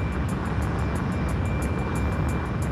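Fighter jet engine roaring steadily during takeoff in the video game Ace Combat Infinity, a loud continuous broadband rumble with a faint rhythmic pulsing on top, no voices.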